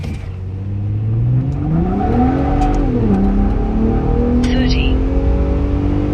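A 2024 Ford Raptor pickup with a 4.10 rear end accelerates hard from a stop at about 5,000 feet elevation, its engine note climbing loudly through a gear shift while a man calls out speeds over it.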